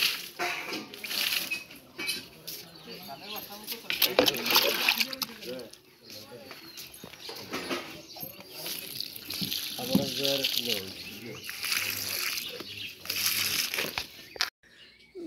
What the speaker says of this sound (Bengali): আমি যে সকাল সকালই সবগুলো গাছে জল দিয়ে নিচ্ছি।